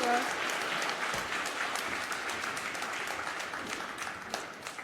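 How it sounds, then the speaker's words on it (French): An audience at a forum applauds an organisation with dense, sustained clapping from a crowd filling the whole stretch, holding steady and easing slightly at the end. "vous pouvez applaudir quand même très fort Russie Liberté pour ces 10 ans d'engagement sans faille"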